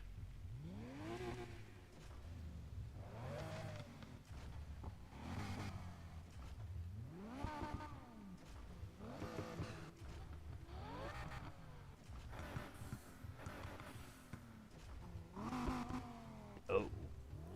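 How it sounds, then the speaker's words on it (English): A Lamborghini engine revs in the racing game NFS Heat, driven with a wheel, pedals and manual gear shifter. Repeated rising and falling revs follow one another in a steady rhythm of acceleration and upshifts. "How do the engines sound in this Lamborghini?"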